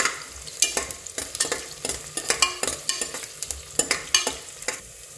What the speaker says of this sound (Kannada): ಆನಿಯನ್ಸ್ನ ಫ್ರೈ ಮಾಡೋದಕ್ಕೆ ಹಾಕ್ತಿದ್ದೀನಿ